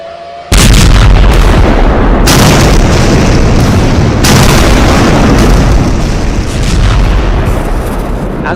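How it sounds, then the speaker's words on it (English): A huge, earth-shattering explosion booms in the distance: a sudden deep blast hits at once and then rolls on as a long, loud, continuous rumble with repeated heavier surges, with no voices over it. "As an earth-shattering explosion boomed in the distance"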